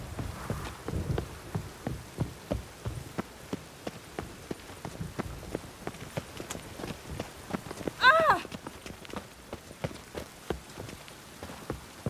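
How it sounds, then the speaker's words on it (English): Rain falling in The Witcher 3: Wild Hunt, a steady patter of game ambience with footfalls or hoofbeats running through it and a brief louder effect partway, under occasional game speech. "It's raining again."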